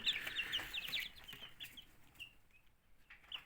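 Many high, thin chick peeps overlap in a dense chorus at first, then thin out into scattered cheeps, close by.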